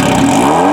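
A Kawasaki Z900RS fitted with a Dale Walker Holeshot header and a loud Lextek muffler, giving one short, very loud, close rev with a deep rumbling exhaust note.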